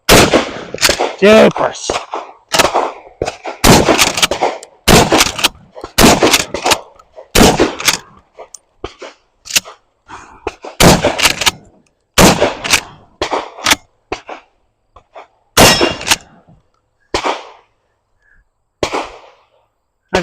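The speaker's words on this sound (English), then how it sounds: "got the shotgun loaded up. Mossberg Maverick 88. Let's go. Slug up first." A Mossberg Maverick 88 pump shotgun fires slugs at steel outdoors: around a dozen loud, sharp blasts at irregular intervals over twenty seconds, each with a short echoing tail, and a voice speaks briefly.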